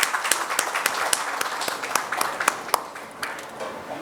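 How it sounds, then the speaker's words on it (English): An audience applauds at an annual meeting, a dense patter of hand claps of moderate loudness with a few crisp, distinct claps, gradually thinning out near the end. "A huge round of applause for Dr. Pillai, please."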